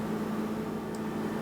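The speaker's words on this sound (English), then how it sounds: "I'm going to melt this down just in a bowl in the microwave." A microwave oven hums steadily while it melts coconut oil in a bowl, a close, even mechanical drone with no break.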